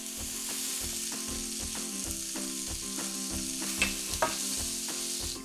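King prawns being stirred in a hot pan, sizzling steadily with regular scraping strokes of a utensil, close and clear with no talk.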